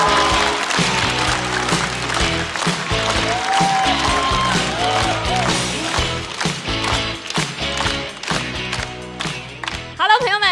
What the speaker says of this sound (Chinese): 让我们掌声有请